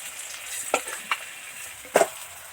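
Koi fish deep-frying in hot oil give off a soft, steady sizzle, broken by a few sharp clicks as pieces are lifted out one by one.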